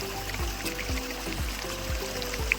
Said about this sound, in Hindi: जंगल से निकलता हुआ ये शुद्ध जल